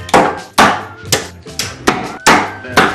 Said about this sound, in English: We play Hammerschlagen. It's a game with a hammer and a nail.